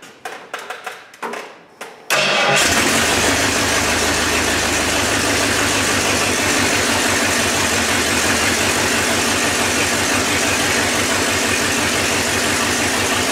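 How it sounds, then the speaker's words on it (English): A 1985 Ford Bronco engine cranks in a few short bursts, then catches at about two seconds and settles into a loud, steady idle that runs close and unbroken to the end. "go ahead and turn ignition on."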